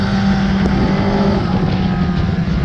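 A Kawasaki Ninja ZX10R SE sport motorcycle accelerates on a test ride, its engine giving a loud, continuous, close drone with rising revs and wind rush and no voices.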